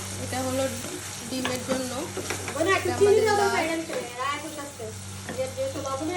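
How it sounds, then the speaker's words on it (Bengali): Onions fry in a pan for an Eid home-cooked meal, a steady close sizzle with stirring scrapes running beneath a person talking throughout. "সেহেতু আমি পেঁয়াজ ভাজি চাপাই দিচ্ছি"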